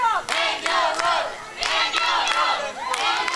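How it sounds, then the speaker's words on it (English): A wrestling crowd at an indoor independent show roars and cheers in loud, sustained waves, with shouts rising and swelling over one another and no talking on top. "And the crowd getting behind Angel Rose here."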